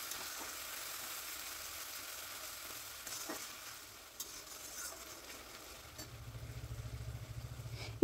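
Ground spice paste frying with fried onions in a pan for a soybean curry, a steady soft sizzle with occasional stirring scrapes, close and moderate, joined near the end by a low rhythmic hum, no talking.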